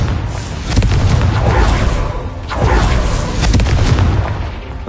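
A loud booming blast from the Confringo fire spell in the Hogwarts wizarding video game, a heavy rumbling explosion that swells and rolls across several seconds with a second surge midway.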